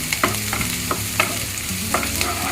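Onion, beans and carrots sautéing in a pan for upma, close and loud with steady sizzling frying and repeated scraping strokes of a spoon about every half second.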